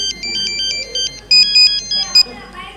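A mobile phone rings for an incoming call, its bright electronic tones repeating in short rhythmic bursts. Voices murmur faintly underneath during a live Gujarati comedy performance.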